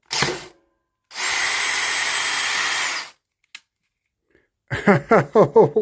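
Power drill whose chuck has broken off, whirring in one sustained burst of about two seconds after a short blip, then silence, a single click, and a quick run of rhythmic ratcheting pulses at the end.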